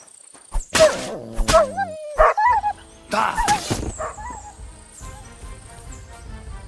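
A dog in the video game Kingdom Come: Deliverance II gives several loud, close barks and yips in uneven bursts, with whimpering pitch bends and a faint background ambience between them.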